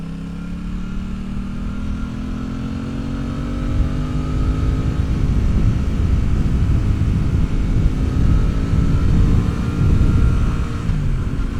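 A 2026 Aprilia Tuono 660 Factory motorcycle engine pulls hard under riding, its tone climbing through several rising gear sweeps and then holding a loud, steady drone, with heavy wind rush close to the bike throughout.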